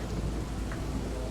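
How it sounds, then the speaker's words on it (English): Rain in the Roblox game Royale High makes a steady, dense hiss that fills the whole brief moment with no voices over it. "the rain's picking up"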